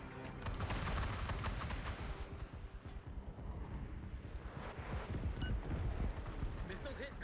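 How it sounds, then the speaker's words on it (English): A missile strikes a ship in a naval video game, setting off a dense run of booming, crackling impacts and rumbling blasts that stay loud and busy throughout, with a voice talking faintly underneath. "Missile hit confirmed."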